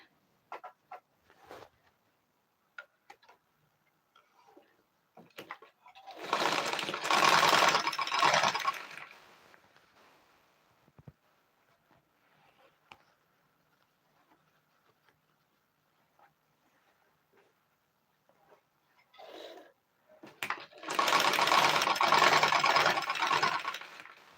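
An electric sewing machine hemming a child's dress, running in two loud bursts of a few seconds each, separated by quiet stretches with faint handling clicks.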